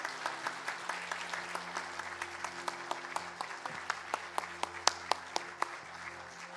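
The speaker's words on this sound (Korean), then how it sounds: "다시 한번 큰 격려와 축하의 박수를 보내주시기 바랍니다." A church congregation applauds graduates of a prayer-life course, with steady rhythmic clapping in fairly regular beats over several seconds and low organ-like tones sustained underneath.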